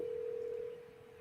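A telephone tone sounds while a call is being placed: one steady, clean, mid-pitched tone that holds, then drops in level partway through, with nothing else over it.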